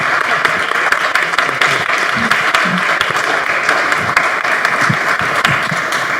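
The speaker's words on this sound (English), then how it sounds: "Let's give an applause." Audience applause at an international forum and expo, a steady wash of many hands clapping for several seconds, loud and sustained with faint voices underneath.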